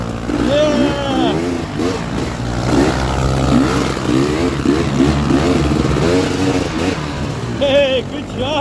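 A motorcycle on a poker run accelerates nearby, its engine revving up in repeated rising sweeps as it shifts through the gears, loud and close, while a person's voice calls out over the engine.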